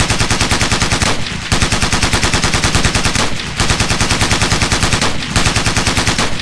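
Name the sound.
gunfire in Ghost Recon Navy SEALs video game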